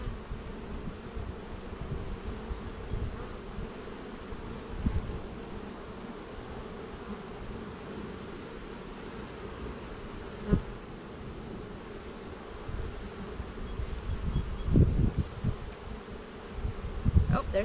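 Honey bees buzz around an open beehive during an inspection, a dense, steady hum close to the microphone, with occasional louder passes and handling knocks near the end; no talking.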